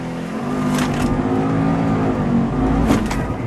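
A 2008 Subaru Impreza STI accelerates hard during a 0-100 run, its engine droning loud and continuous from inside the cabin, with a brief dip and recovery through a gear change.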